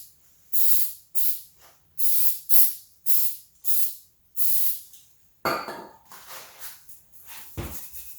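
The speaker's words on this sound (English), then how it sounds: "I'm just going to get some brake cleaner and spray it down a little bit" Brake cleaner is sprayed onto a car's rear hub assembly in a run of about seven short, close, sharp hissing bursts with brief pauses between them, followed by rougher scrubbing noises.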